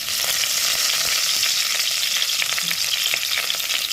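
Curry leaves dropped into about two spoons of hot coconut oil crackle and sizzle steadily, a dense close frying hiss with small pops throughout and no talking.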